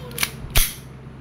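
Two sharp, close airsoft shots from an EMG Pit Viper (John Wick 4) replica fire in quick succession. The second crack is louder, and a faint hum of the room carries underneath.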